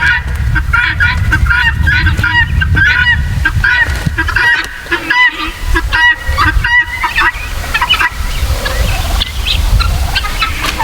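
Guinea fowl on a homestead give loud, close, harsh repeated cries, several birds overlapping in a rapid rhythmic chorus with no talk.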